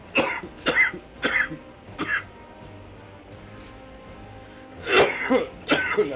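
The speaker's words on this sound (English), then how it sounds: "Now that cough isn't because I'm sick." Several harsh coughs and throat-clearing bursts from a person playing the Gears 5 online game, a cluster of four early then a couple more near the end, close and loud with quiet gaps between.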